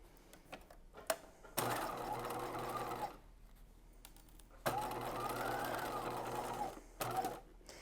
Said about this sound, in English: we're going to go to the machine and sew these together on a long basting stitch at 1/2 inch seam allowance